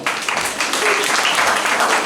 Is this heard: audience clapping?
yes